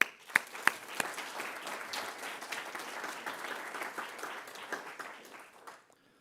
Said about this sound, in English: Give some applause to the nominators